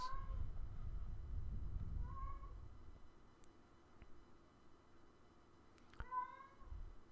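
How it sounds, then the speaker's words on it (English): A cat meows a few times at a distance, faint calls spaced apart over low background rumble. "Sounds like my cat is getting into things."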